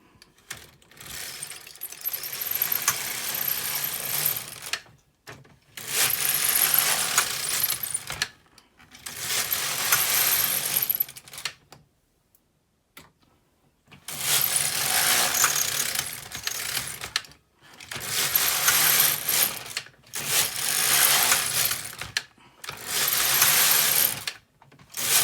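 An LK 150 or KX 350 knitting machine carriage is pushed back and forth across the needle bed while knitting rows for a beanie hem, giving seven loud rattling, clattering passes of about two to three seconds each, separated by short silences.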